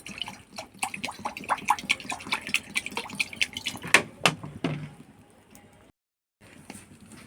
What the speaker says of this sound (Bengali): এবার কড়ার মধ্যে জল দিয়ে দেবো।